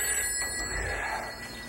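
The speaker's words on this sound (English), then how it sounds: "the phone rings" A telephone rings in a quiet room at night, a steady bell-like electronic trill with faint background hum and no talk.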